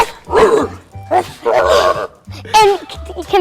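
A person imitates a small dog with a run of short yapping barks and whimpers, spaced over a few seconds, close and loud.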